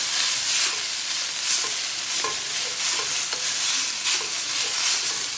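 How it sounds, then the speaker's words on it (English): Aromatics frying in oil for Javanese goat curry, a steady, close hiss of sizzling broken by regular stirring strokes and light scrapes of a utensil in the pan. "So here I am cooking my aromatics."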